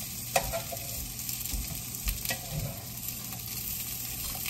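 Food frying crisply in a hot pan, a steady close sizzle with occasional stirring or utensil knocks over it, running continuously without talk.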